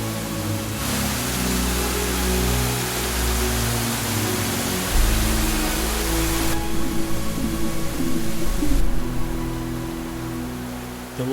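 A 35-meter waterfall near Port Vila, Vanuatu, pours into a series of aquamarine pools and cascades, making a steady, loud, broadband roar that runs without pause throughout.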